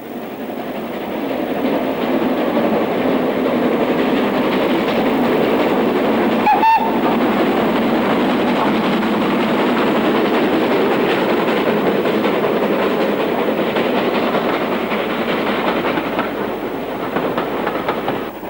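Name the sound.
locomotive-hauled train on the North Yorkshire Moors Railway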